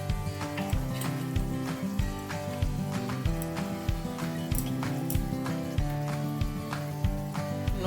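Turmeric and chili powder sizzle in hot oil while rajma is being fried, with a steady loud crackle broken by rhythmic scraping and stirring clinks of a utensil against the pan.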